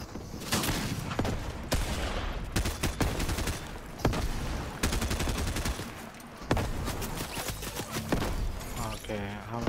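Video game gunfire erupts in a bot match, loud sharp shots and rattling automatic bursts cutting in repeatedly over continuous background noise, with voices talking throughout.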